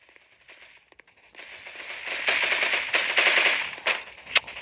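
Rapid bursts of video game gunfire, starting faint and sparse before breaking into a dense, loud stream of automatic shots with a few sharper single cracks near the end.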